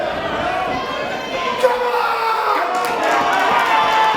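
A wrestling show crowd in a hall keeps up a continuous roar of cheering and chatter at mid distance, with a commentator talking over it.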